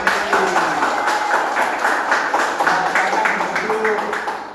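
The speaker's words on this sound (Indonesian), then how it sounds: "Ya, tepuk tangan." A class of students claps hands in rhythmic bursts throughout, mixed with a busy hubbub of voices in a classroom.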